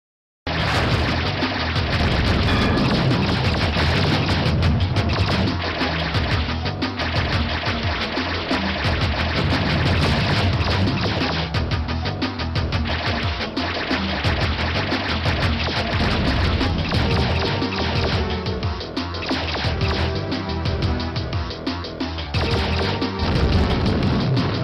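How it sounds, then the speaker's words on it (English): Gameplay from Descent 2 running on an old 486 DX2 PC, a dense, loud, continuous mix of blasts, crashes and booming effects with music-like tones, no talk. "And here's a little bit of Descent 2 for your viewing pleasure."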